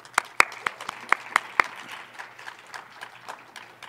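Audience applause after a keynote introduction at a college of health professionals event: a burst of sharp, distinct claps that thins into lighter scattered clapping over a few seconds, with no one speaking.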